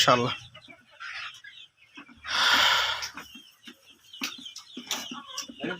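Chickens at a poultry farm raising laying Fayoumi hens cluck and call in short bursts through the scene, mixed with a burst of broadband noise and some talk nearby.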